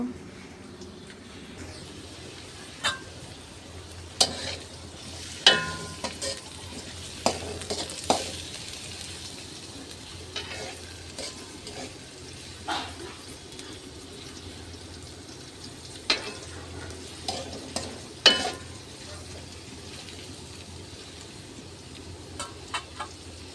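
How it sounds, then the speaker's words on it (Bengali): Whole bay leaves, peppercorns, cloves, cardamom and cinnamon fry in hot oil in a wok for chicken curry, giving a steady sizzle close by with repeated scrapes and clinks from stirring. "এখানে তেজপাতা, গোলমরিচ, লবঙ্গ, এলাচ, দারচিনি রেখেছি। এই যে এগুলো এখন কড়াইতে দিয়ে দেব।"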